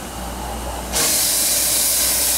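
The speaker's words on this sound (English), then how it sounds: "And of course that's blower on it" A blower on a large 20-inch-diameter steam engine boiler switches on partway through, and a loud, steady broadband hiss of steam fills the rest of the clip.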